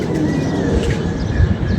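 Pigeons coo and chirp on a very windy day, several soft calls close by over a loud, steady rumble of wind. No wing flaps stand out clearly.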